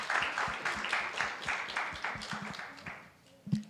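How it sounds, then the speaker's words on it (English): Scattered audience clapping at an induction service, fairly faint and uneven, rising briefly at the start and settling, with some voices in the room. "Let's give her a round of applause."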